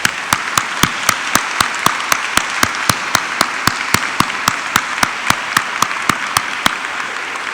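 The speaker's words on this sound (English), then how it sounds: "Let's give them a round of applause" Sparse, evenly spaced hand claps ring out for the sheriff and major at a Memorial Day gathering, each sharp clap distinct and fairly loud, more like a single person's rhythmic clapping than a full crowd.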